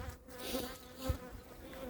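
Honeybees hum steadily around a weak hive that has been strengthened with frames from a stronger colony, a close, continuous buzz rising and falling slightly, with no voices.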